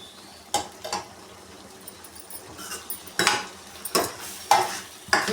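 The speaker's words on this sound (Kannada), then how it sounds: "ನೋಡಿ ಈಗ ಈ ರೀತಿ ಫ್ರೈ ಆಗ್ತಾ ಇದೆ" Sambar powder frying in a pan over a medium flame for kichdi, a faint sizzle broken by sharp, irregular spatula scrapes and clinks against the pan, spaced about a second apart.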